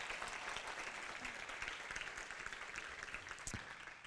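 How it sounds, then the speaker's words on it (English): Another round of applause rises from a conference audience at a game developers' event, steady broadband clapping from many people in a hall, held evenly throughout and fairly soft in level. "So maybe we can give another round of applause for all the Picha Kucha sessions."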